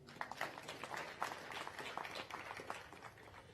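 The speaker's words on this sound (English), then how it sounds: "You may clap for that." A graduation audience at Makerere University in Uganda gives a short burst of scattered clapping, faint and distant, lasting a few seconds.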